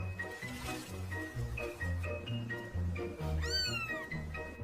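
A cat meows repeatedly in quick succession, close and fairly loud, with one higher, drawn-out cry near the end and a faint tinkling behind, no voices.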